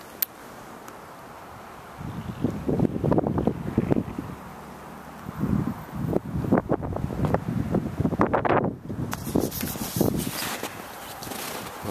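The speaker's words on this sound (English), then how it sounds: "the wind is still howling" Strong winter wind gusting outdoors at a small park in Fairbanks, Alaska, in bitter subzero cold, with buffeting bursts against the microphone rising and falling over roughly ten seconds.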